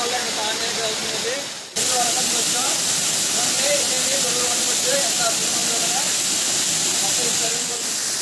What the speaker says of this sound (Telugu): చూడండి అదే అండి సరుగుడు వాటర్ ఫాల్స్